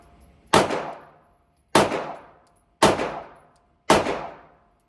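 Four sharp Glock 17 pistol shots, evenly spaced about a second apart, each a loud crack trailing into a short fading ring.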